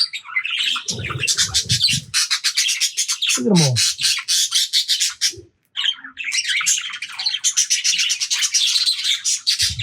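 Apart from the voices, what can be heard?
birds bred by Trina chirping and squawking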